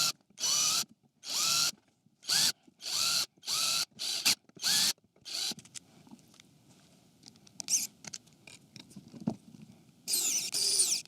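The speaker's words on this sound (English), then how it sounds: "now I'm going to install the hinges on the lid itself" Hinges are fitted to the lid of a handmade American red elm tea box, heard as a rapid series of short buzzing bursts from a small power driver, then lighter clicks, taps and handling noises up close.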